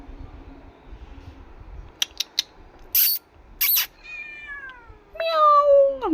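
A pregnant cat cries out with drawn-out meows while near a plate of biryani, two distinct calls, the second louder and rising, after a few sharp clicks and knocks nearby.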